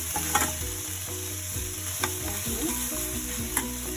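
Red momo chutney frying in a pan while being stirred, a soft continuous sizzle broken by a few sharp spoon scrapes and clinks, close up, with no voices.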